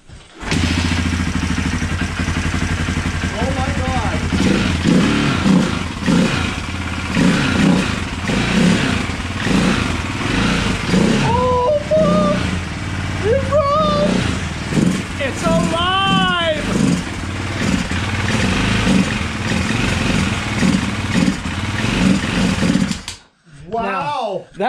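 A restored KTM 620 single-cylinder motorcycle engine runs after its first start, a loud, close, uneven thumping idle with revs rising and falling and a few brief whines, then an abrupt stop at the end.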